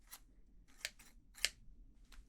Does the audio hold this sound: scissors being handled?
yes